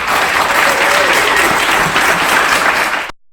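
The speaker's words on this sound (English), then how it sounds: "Let's give Carter another round of applause" Audience applause at a business-owners showcase event, a dense steady wash of clapping that holds at full strength for about three seconds before cutting off abruptly.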